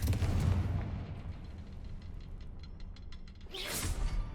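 A Confringo blasting spell bursts in Hogwarts Legacy with a loud, deep boom at the start that rolls off into a long rumbling decay, then a second sharp fiery crackle flares up near the end.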